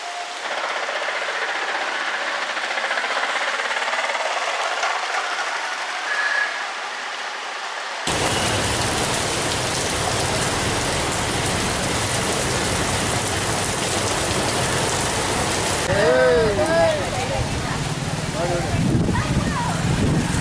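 Steady rain falls over Srikalahasti and Chittoor towns in Andhra Pradesh, a continuous broadband hiss that grows denser and rougher partway through, with faint indistinct background activity mixed in.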